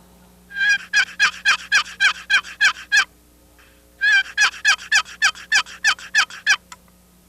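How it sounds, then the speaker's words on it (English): Two runs of rapid, rhythmic turkey mating yelps struck on a wooden box call, each a quick string of about ten sharp, raspy notes with a short pause between the runs; close and loud, with no talking. "Here's what a mating yelp would sound like on a box call."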